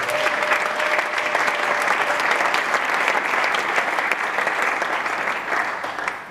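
Congregation at a church gathering applauding the Lord: dense, sustained clapping from a large crowd, loud and even for several seconds before easing slightly at the end.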